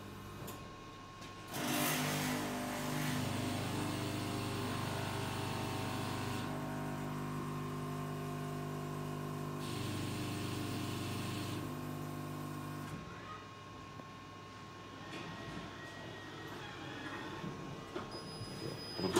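A coffee vending machine brews a 250 ml to-go drink with a steady mechanical whir and hum that shifts in stages as it grinds and dispenses, quieting near the end, heard close with no talk.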